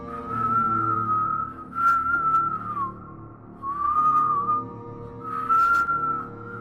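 An eerie, wavering whistle sounds in several sustained phrases separated by short pauses, clear and fairly close against a low background hum.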